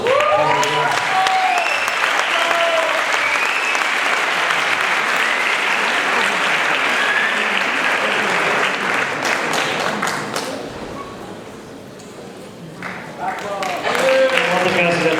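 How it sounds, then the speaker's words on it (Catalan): Sustained applause from a graduation ceremony audience fills the hall, dipping briefly near the end, with voices speaking over the clapping at the start and close. "Moltes gràcies a tots per l'aplaudiment per a ells"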